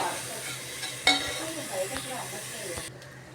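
Green beans sizzle softly in a pan of chilli powder over a low flame. A quiet, steady hiss runs throughout, broken by a few clinks and scrapes of stirring.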